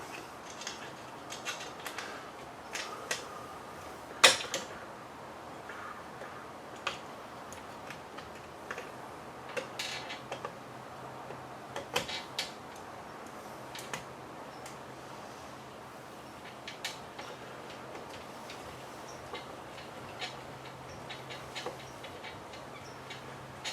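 Small screws on an HPI Baja electric conversion are turned by hand with a screwdriver, giving a long run of faint, irregular ticks and clicks with one sharper snap early on, close and quiet with no talking.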